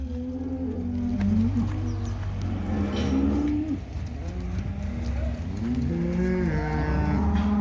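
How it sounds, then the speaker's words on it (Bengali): Cattle being unloaded one at a time from a large truck at a farm, with repeated moos rising and falling throughout amid steady outdoor background noise. "এই যে গরুগুলো কিন্তু ওখান থেকে একটা একটা করে ছাড়তেছে"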